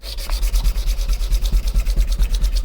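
Metal workpiece held in a vise being hand-sanded with 120 grit sandpaper, a steady rhythmic back-and-forth rasp of about ten strokes per second, close and loud with nothing else over it.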